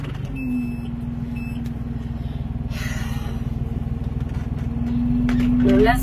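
A farm tractor runs steadily while spreading fertilizer in a vineyard with the hydraulics engaged, its engine a loud, even drone with a pulsing rhythm that builds toward the end, with a brief higher whine near the end.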